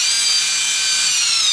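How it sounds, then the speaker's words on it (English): Power drill driving a screw to mount rock lights on a TRX-4 RC truck: a close, loud, continuous high-pitched whine that holds steady without pause for the whole short burst. "Now we need the drill."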